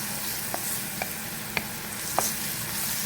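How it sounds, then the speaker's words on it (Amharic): Chopped garlic and ginger sizzle in a hot pan for a pasta dish, a constant close frying hiss broken by four or five light clicks of stirring. "እዚህ ጋር ያዘጋጀሁትን ነጭ ሽንኩርትና ዝንጅብል አደርጋለሁ ማለት ነው።"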